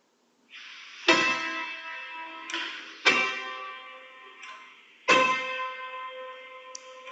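Two notes sounded together as a harmonic interval, struck three times about two seconds apart, each chord ringing and decaying clearly with no talking.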